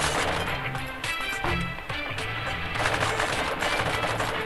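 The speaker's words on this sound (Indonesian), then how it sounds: "Oh, ada tembak." Gunfire in the mobile video game MILICOLA Lord of Soda, a dense continuous rattle of rapid shots layered over busy game music and effects, loud and unbroken throughout.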